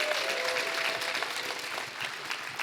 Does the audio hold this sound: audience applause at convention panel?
yes